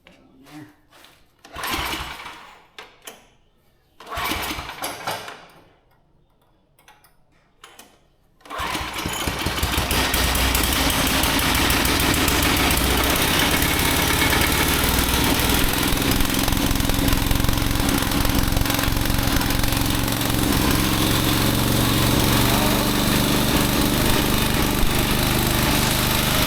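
A cheap gas engine on a used log splitter gets a few short pull-start bursts, then catches and settles into a loud, steady running drone that continues to the end.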